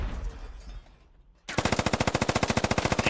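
A SAW light machine gun in the Squad video game opens up after a quieter lull and fires a long, rapid, evenly spaced burst of loud, close shots.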